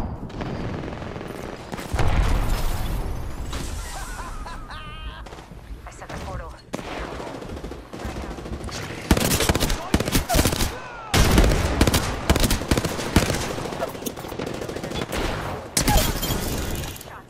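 Rapid bursts of gunfire and explosions fill a chaotic Apex Legends firefight over a loot drop, with voices talking over the shooting.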